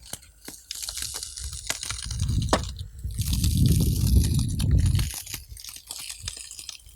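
Sugar cane juice streams steadily from a cane press into a waiting barrel outdoors, a continuous splashing, gurgling pour that swells in the middle and fades near the end, with a few crunchy clicks.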